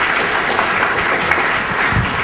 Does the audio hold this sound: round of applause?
yes